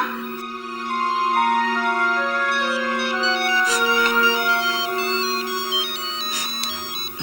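Electronic ringtone from a telephone in a home scene of an Indonesian TV drama, a steady melodic tone pattern sounding clearly and continuously with no talk over it.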